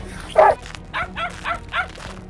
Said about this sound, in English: When the dogs spot the wild boar, they bark and surround it, holding it in place.